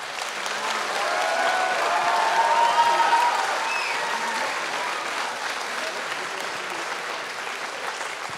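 A theatre audience applauding at a stage show, a broad sustained wave of clapping that swells, then settles to a steady level, with a few voices faintly cheering within it.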